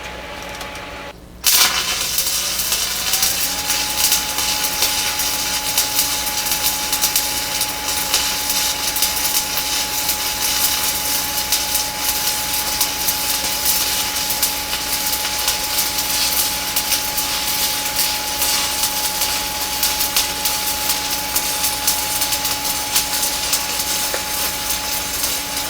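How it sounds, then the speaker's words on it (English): A stick welder runs steadily on a V-shaped joint prep, a loud continuous crackling hiss with a faint buzz that starts after a brief quiet moment and holds unbroken to the end. "I'm gonna weld half, and Pierre's gonna weld half."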